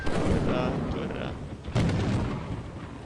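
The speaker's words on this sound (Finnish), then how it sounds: "Iskikö se salama siihen koiraan?" A lightning strike cracks out in the video game Lethal Company, a loud rumbling boom that swells, dips, then bursts again in a second heavy crash before fading into a rolling roar.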